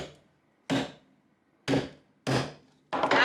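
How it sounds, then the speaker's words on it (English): Four sharp hammer blows drive nails into a small wooden birdhouse, each strike a loud, close crack spaced unevenly about a second apart with quiet between. "That is the authoritative way to hammer in nails."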